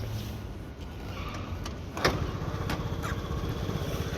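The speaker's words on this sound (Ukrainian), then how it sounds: "Перевіримо кікстартер." A sharp kick-start thump, then a Honda Dio AF68 fuel-injected scooter engine chugging steadily at idle, close by.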